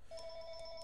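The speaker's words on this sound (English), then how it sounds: "Oh, the phone is ringing." Telephone ringing, a short, faint electronic trill with a steady tone and quick pulses, heard alone.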